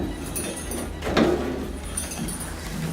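An old, heavy, submarine-style metal door in a Russian tunnel in Estonia is swung open, a single grinding scrape over a low rumbling room tone with no talking.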